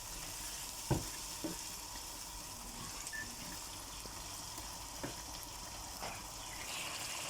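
Chicken karahi browning in a pan after yogurt is stirred in, a steady low sizzle with occasional soft clinks and scrapes of a spoon, fairly quiet and with no voices.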